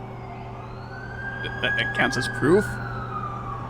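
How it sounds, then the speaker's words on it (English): In The Amazing Spider-Man 2 video game, an ambulance siren wails as a steady, rising and falling tone under game music and brief character dialogue. "That's the ambulance I called."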